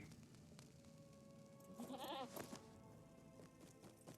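A goat mount bleats in the Lord of the Rings Online video game, a short wavering bleat of moderate loudness over steady game ambience and music.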